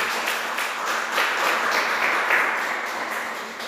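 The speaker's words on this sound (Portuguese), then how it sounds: "Vamos aplaudir o Senhor." A church congregation breaks into applause during a service, a dense, steady wash of many hands clapping together, moderately loud and sustained throughout with no talking over it.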